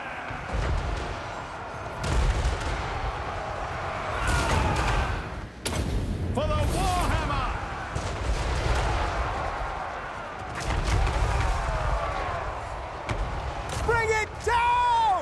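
Gunfire and artillery from the strategy game Total War Warhammer 3 keep up a steady barrage of booms and cracks behind someone talking excitedly over the battle.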